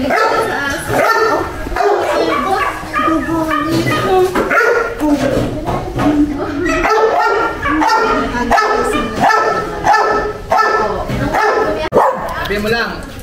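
Several dogs bark and yip repeatedly, close by and loud, with some whimpering, mixed with people talking throughout.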